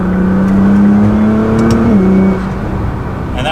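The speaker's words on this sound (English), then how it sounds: "So in fourth gear now, we'll pass a car." Stock 2014 Nissan GT-R in fourth gear accelerating hard to pass another car on the highway, engine note rising steadily then easing as it settles, loud and close from inside the cabin.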